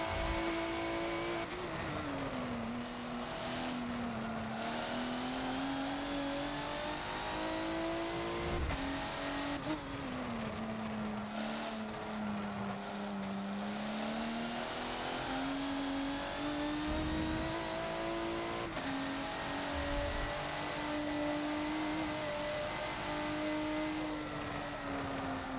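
A race car engine in the Forza video game revs loudly and continuously on Maple Valley track, pitch rising and falling through gear changes with occasional tire squeal, alone with no talk.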